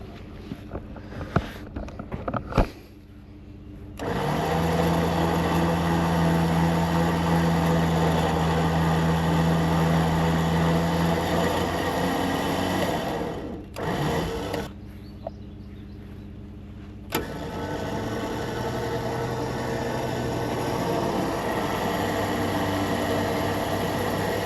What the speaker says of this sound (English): Rough country winch connected to the giant oak log. I want to pull it out of the way